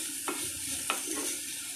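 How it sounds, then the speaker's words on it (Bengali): Chilli chicken with capsicum and onion being stirred in a frying pan: a continuous close sizzle broken by two crisp spatula scrapes against the pan. "এবার একটু নাড়িয়ে নেব।"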